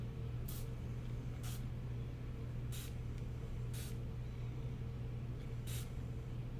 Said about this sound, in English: So I put it into my little spray bottle here, my little fine mist spray bottle.